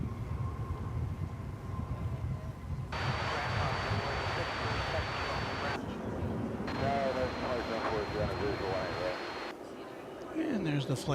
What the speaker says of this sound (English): And there's the flight from Vegas.